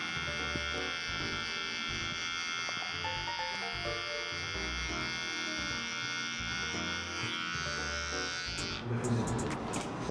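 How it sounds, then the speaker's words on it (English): Electric hair clippers from a budget Walmart barber set buzz steadily through a haircut, a continuous close hum with a brief louder scrape near the end. "1 clipper, bro, no lever"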